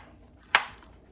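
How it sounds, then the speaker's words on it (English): A single sharp knife chop through bananas on a cutting board, one crisp close hit rising out of a quiet room. "we're gonna go ahead and slice these up into like centimeter thick slices"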